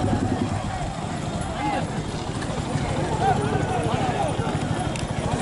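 Hooves pound steadily through a bullock cart race as cattle run in a continuous loud rumble, under shouting voices and crowd noise from an outdoor rural race.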